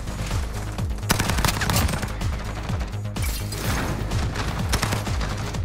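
Shotgun fire in Call of Duty Modern Warfare, loud and close, caught within dense, nearly continuous gunfire that carries steady rumbling booms and sharp cracks throughout.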